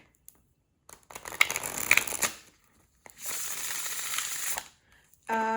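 Ritual Tarot cards, edged in black, being shuffled in two long riffling bursts with a brief pause between, close and fairly loud, followed by a short clack at the end.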